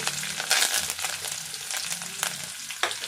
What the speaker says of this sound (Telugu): ఈ తాలింపులు వేగిపోయినాయంటే ఇప్పుడు పచ్చిమిరపకాయ వేసుకుందాం.